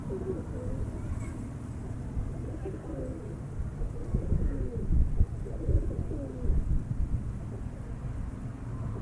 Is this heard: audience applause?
no